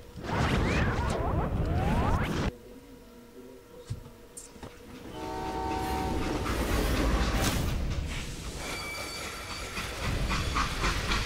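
A freight train rumbles along the rails with steady clattering and hissing, loud and close, dropping briefly before the rolling noise builds again.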